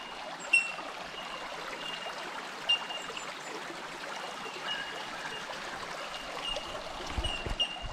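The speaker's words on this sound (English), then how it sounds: "How good's that river?" A river flows along an overgrown bush track, a soft continuous burble and trickle heard at a distance, with faint bird calls and a few light knocks over it.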